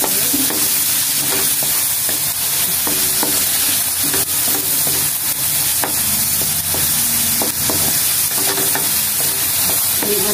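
Onion and garlic sauté in a frying pan for adobong kangkong, with a loud, continuous sizzle and repeated scraping stirs close by, and no talking.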